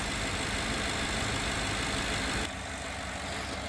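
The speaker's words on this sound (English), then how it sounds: "I'm just letting the truck warm up here a little bit" Ford F150 truck fitted with a Roush cold air intake idles while warming up, a steady, close engine rumble that softens slightly partway through.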